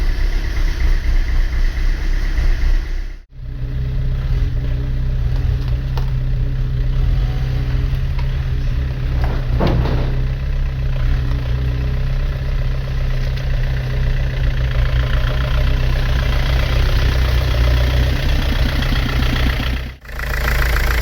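Vauxhall Vectra B CDX engine running after a lamppost crash with a seized drive belt and no power steering, a steady close idle with a rough low drone and two brief dropouts.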